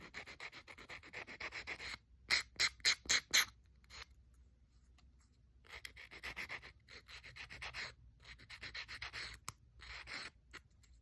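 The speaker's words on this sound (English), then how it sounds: "I think I'm going to round the corners with my little sandpaper" Small sandpaper rounds the corners of a paper collage in quick close rubbing strokes, first a rapid burst of four or five, then slower scattered passes separated by quiet gaps.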